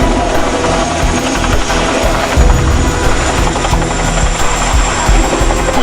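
Chinook helicopter at the Biggin Hill International Air Fair, a steady loud rotor roar with low thumping throughout, close and continuous with no talk over it.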